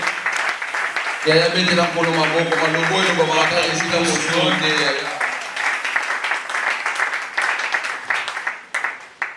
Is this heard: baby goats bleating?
no